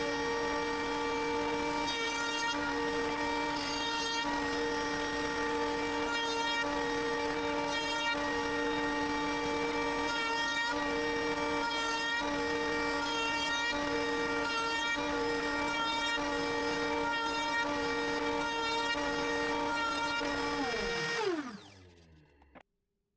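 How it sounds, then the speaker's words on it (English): A router with a small bit rounds the corners of a plate for a homemade fly rod holder, a steady, loud, high-pitched whine that runs without a break before spinning down at the end. "Instead of sanding them down by hand, I use the smallest router bit I have to round the corners."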